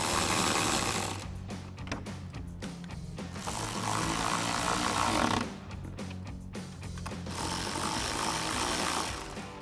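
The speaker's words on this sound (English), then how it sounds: "go ahead and reinstall our 10mm screws holding our headlight in place using our 10mm socket on our ratchet" A ratchet with a 10mm socket drives headlight screws on a 2011-2016 Ford F-250, with bursts of rapid clicking ratcheting broken by short pauses, close and fairly loud, no speech.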